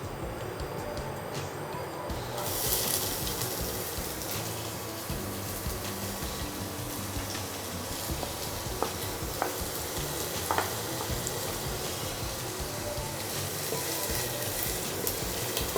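Three medium chopped onions sizzle in a pan for a Bengali chilli chicken curry, a steady crackling fry with occasional stirring scrapes, close and continuous, a faint voice briefly in the background.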